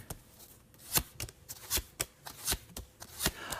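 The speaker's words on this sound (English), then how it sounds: "I'm going to be flipping the cards here." Tarot cards being shuffled and flipped, a run of sharp riffling bursts at a steady rhythm, close and fairly quiet, with no talk over them.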